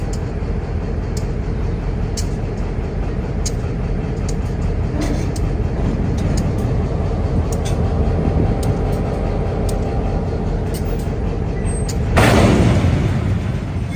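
Freight cars roll steadily past at a road crossing in Lexington, Kentucky, with a continuous rumble and rhythmic clunks, ending in a louder hissing burst near the end.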